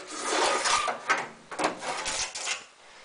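A plexiglass panel slides out of a homemade sandblasting cabinet with a few close, scraping and rattling sliding strokes over roughly three seconds.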